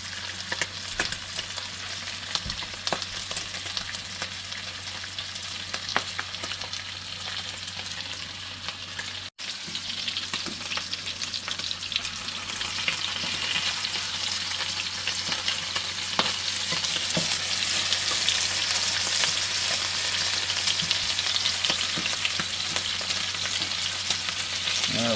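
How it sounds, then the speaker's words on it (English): Meat frying in smoked lard gives a continuous close sizzle and crackle with occasional stirring, steady and fairly quiet throughout. "Start to sizzle. Lovely sound."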